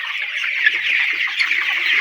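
Many Sonali chickens cluck and chirp together in a dense, continuous chorus inside a crowded poultry shed in hot weather.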